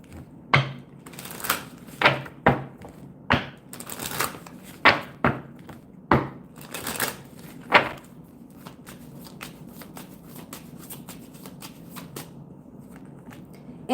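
Tarot cards shuffled by hand for a reading, starting with loud crisp slaps and riffles in an uneven rhythm, then tapering off into quieter, sparse flicks close by.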